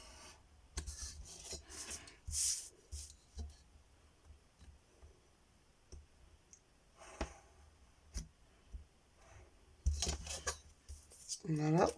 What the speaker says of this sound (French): Donc on vient découper, mais en s'arrêtant bien au pli et seulement sur une moitié de carte.